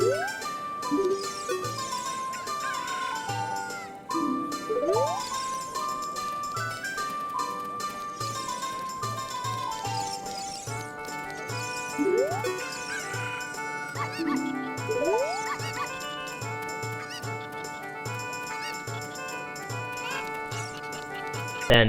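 Hyrule Castle Town music from the video game The Legend of Zelda: Ocarina of Time plays, a cheerful, lively loop of bouncy melody over a steady, repeating bass pulse.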